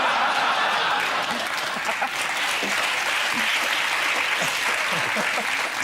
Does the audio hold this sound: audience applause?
yes